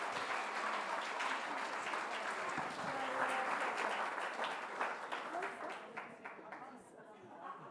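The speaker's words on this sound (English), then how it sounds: "please put your hands together for Di Honey, Simone McInnes, and the great Joyce Brown" Sustained audience applause fills the room at a netball awards ceremony, dense and continuous with mixed chatter, gradually thinning and fading toward the end.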